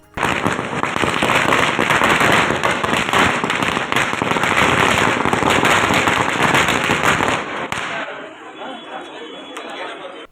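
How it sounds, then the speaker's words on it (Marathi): Firecrackers burst in rapid, dense crackling volleys at an outdoor welcome ceremony for a visiting actor at a memorial, loud and sustained for about eight seconds over crowd chatter, then fading to quieter background voices. "यावेळी फटाक्यांची आतिषबाजी देखील करण्यात आली"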